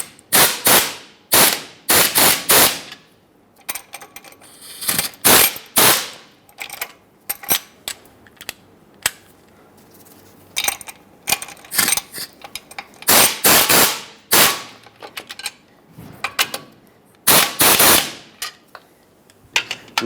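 A 14mm socket snugging bolts on an air suspension helper spring kit for a 2003-2009 Dodge RAM 2500 gives off repeated sharp ratcheting bursts in rapid clusters, loud and close, separated by short pauses.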